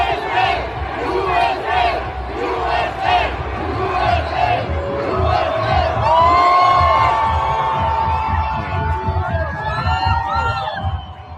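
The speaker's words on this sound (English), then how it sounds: "the Iranians are chanting USA" A large crowd of Iranians chants "USA" in loud rhythmic unison, with whoops and shouted voices rising over the massed chanting throughout.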